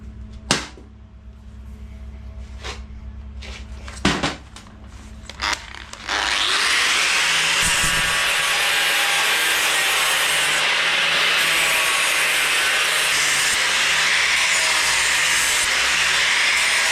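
Steady, loud power-tool cutting into a metal mudguard bracket runs from about six seconds to the end, after a few sharp knocks and scrapes of handling.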